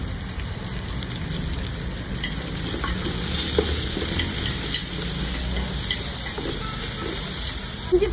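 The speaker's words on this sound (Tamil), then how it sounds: "வெங்காயம் நல்லா வதங்கி வதங்கிச்சு" Onions sautéing in a pan, heard as a continuous rain-like sizzle with soft stirring scrapes and a few faint pops, steady and close, with no voices.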